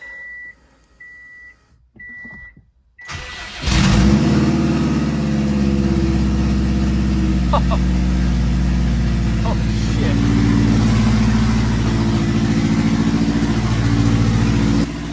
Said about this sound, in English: It's gonna be loud as hell because there is no downpipe on.